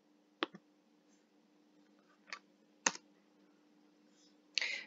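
A computer mouse clicks four times, with sharp, isolated clicks spaced irregularly over a few seconds against a quiet room hum. The last click sounds a little fuller and longer. No one speaks.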